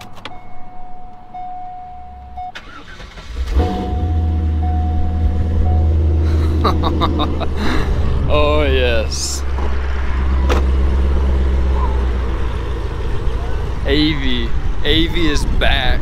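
A Chevrolet Corvette engine starts after a few seconds of quiet idle-like hum, then runs with a deep steady rumble close by, with brief mechanical clicks and whirs alongside it.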